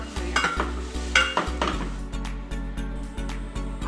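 Misal masala with garam masala, turmeric and Kashmiri chilli powder frying in hot oil, a steady sizzle broken by regular scraping knocks of a spoon stirring against the pan, close and clear without speech.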